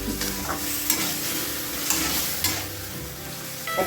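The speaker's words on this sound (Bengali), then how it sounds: "আমি ভালো করে ভেজে নেব।" Potatoes tossed with spices and a splash of water fry in a pan for Bengali aloo dum, giving a steady close sizzle broken by a few scraping stirs of a spatula.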